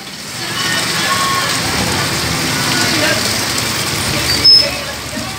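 Heavy rain pours down on a busy street in Montalban with traffic nearby, a steady, loud broadband hiss throughout, broken by one brief sharp sound near the end.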